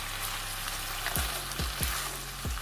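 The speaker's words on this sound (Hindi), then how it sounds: "अब मैं इसके अंदर मटर ऐड कर देती हूँ ताकि ये तीनों चीज़ अच्छे से भून लूँ।" Peas and other vegetables frying in a pan for Chinese rice, a steady broadband sizzle with a few soft scrape-like sweeps of stirring, close and alone with no talk.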